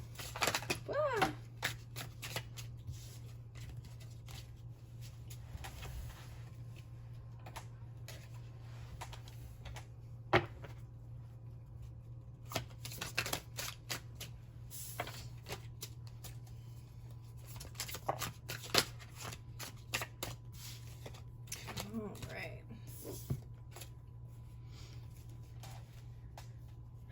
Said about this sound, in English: Let's go ahead and shuffle up these cards a little bit.